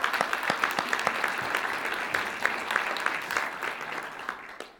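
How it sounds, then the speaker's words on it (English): An audience at a toy safety event gives a round of applause for Chairman Kaye, dense steady clapping from a roomful of people that holds throughout and thins out at the end. "And another round of applause,"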